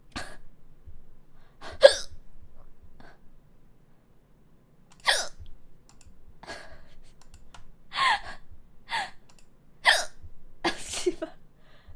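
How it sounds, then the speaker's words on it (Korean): A livestreamer has a bout of hiccups: roughly eight sharp, separate bursts spaced irregularly across a quiet room, some louder than others, with no speech in between. "딸꾹질 멈출 때까지 숨 참는다."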